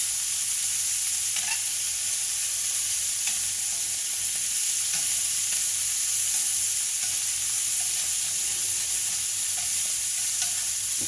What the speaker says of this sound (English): It's rendered so much fat that we've gone from dry pan to nearly deep frying